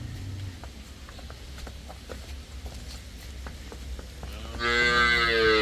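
A cow lets out a loud, drawn-out moo near the end, following a stretch of quiet farmyard background with light tapping.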